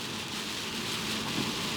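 Steady rain drumming on a parked car in winter on the NC500 in the Scottish Highlands, a dense continuous hiss with no gaps, close and moderately loud, with no voices.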